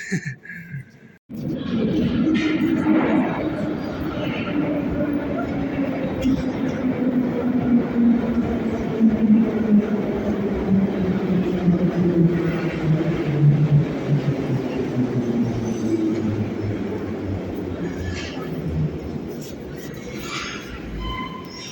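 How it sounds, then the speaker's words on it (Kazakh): A Tashkent metro train rumbles steadily throughout, its low motor tone slowly falling in pitch as it runs, with faint talk in the carriage. "Минор остановкасына метро арқылы бара жатырмыз"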